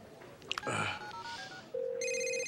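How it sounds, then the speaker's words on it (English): A telephone rings after a call is dialed: a few short clicks and tones, then a steady ringback tone and a bright, close, electronic ring with no voices. "I'm gonna call Maggie right now"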